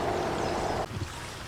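Water rushes steadily out of an overfull garden pond in Northern California, a continuous close wash that drops to a lighter trickle partway through.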